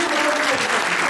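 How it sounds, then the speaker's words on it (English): Audience applause closing a talk, a dense steady burst of many hands clapping together for just over a second, loud and close. "Give yourselves a round of applause"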